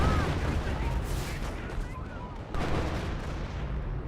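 Off-map artillery barrage in Company of Heroes 1 rumbles with dense, continuous booms and blasts, loud and sustained, with a voice talking over it.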